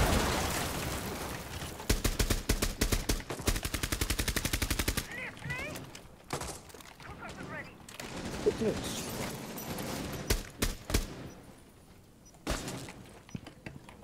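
Rainbow Six Siege firefight: a fast, steady automatic burst opens, then scattered shots and short volleys follow, close and loud, with players talking in between.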